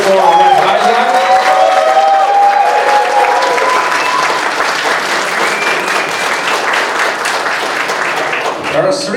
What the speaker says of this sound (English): please put your applause together for Red Isaac.